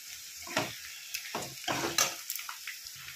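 Potatoes fry in a pan for a white potato curry, giving a quiet steady sizzle broken by several sharp scraping stirs of a spatula against the pan. No one talks.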